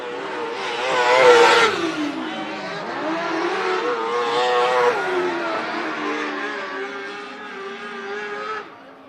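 Race cars in a heat race at Marion County Speedway, a bullring dirt oval, roar through turns one and two, engines loud and rising and falling as they pass, with no talk over them.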